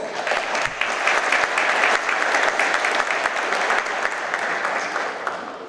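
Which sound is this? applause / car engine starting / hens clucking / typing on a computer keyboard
applause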